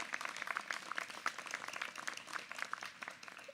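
Faint, scattered applause from an outdoor commencement audience, a thin patter of many hands clapping at a distance that continues without a break and with no voices standing out.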